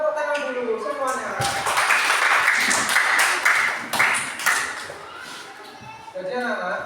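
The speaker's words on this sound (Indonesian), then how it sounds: "Yang tidak tepuk tangan kita kasih tepuk tangan dulu semuanya" Children clapping together in a classroom, a dense burst of applause rising after a teacher's voice and lasting several seconds before tapering, with speech audible over and around it.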